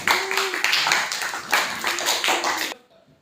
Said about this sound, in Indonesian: tepuk tangan lagi untuk kelompok ini